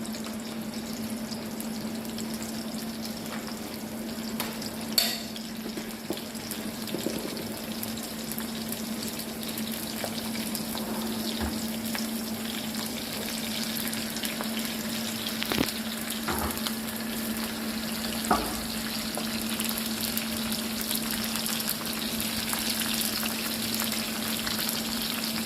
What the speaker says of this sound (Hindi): फ्राई पैन में अब इसको हम भिगार लगाएंगे।